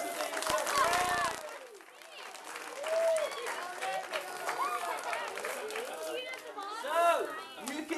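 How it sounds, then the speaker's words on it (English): Audience applause for a brave child volunteer at a live electricity demonstration, a steady wash of clapping mixed with crowd chatter and children's voices lasting several seconds, with a brief low thump near the start. "Give him a round of applause for being so brave."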